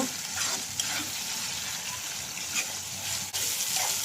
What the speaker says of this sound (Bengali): ওদের আমি পেঁয়াজ মরিচ এগুলো ভেজে দিয়েছি